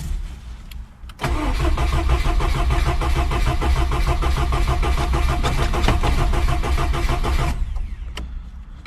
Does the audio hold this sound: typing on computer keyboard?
no